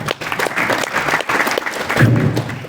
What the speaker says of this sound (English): Clapping the hands.